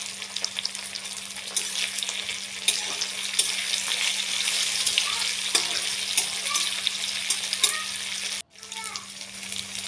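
Steady sizzling of bay leaves, dried and green chillies and turmeric frying in a pan for a chicken dish, with occasional scrapes and stirring clicks, close up and continuous, briefly cut off near the end.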